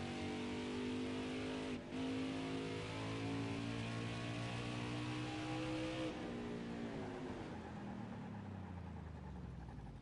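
A NASCAR stock car engine in the racing game NASCAR Heat 5 at New Hampshire holds a loud, steady high drone, then the pitch slides down as the car lifts off the throttle into a corner.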